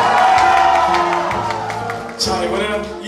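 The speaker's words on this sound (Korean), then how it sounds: "박수!" A crowd cheers and whoops loudly from the start, with scattered shouts over a steady roar that eases slightly midway, then swells again near the end, at a Korean stage performance.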